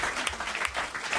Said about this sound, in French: On vous applaudit, Patrick Vesselier.